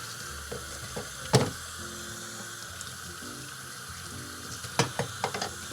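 Water drains from a trombone during cleaning and maintenance, a steady close-up trickle and wash with a few sharp metallic knocks and clicks scattered through it.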